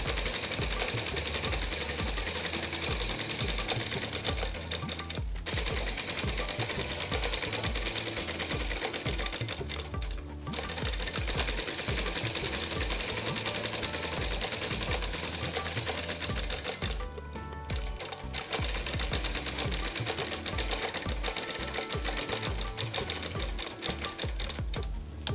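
A sewing machine runs a one-inch double-folded hem along the bottom of a gathered skirt, with a rapid, steady, close mechanical chatter and a few brief pauses between stitching runs.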